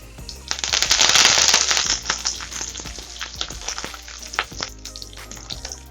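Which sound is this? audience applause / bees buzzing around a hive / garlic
garlic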